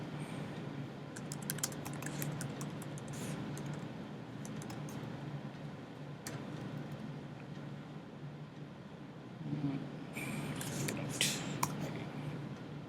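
Someone types code on a computer keyboard in a steady run of soft, close clicks with brief pauses, quiet and with no talking.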